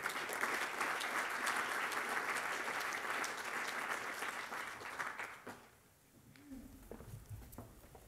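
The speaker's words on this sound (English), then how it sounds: "Let's give a round of applause to today's speaker" An audience at a university executive lecture bursts into sustained, loud applause for the guest speaker, a steady wash of clapping hands that fades out after about five seconds into near quiet.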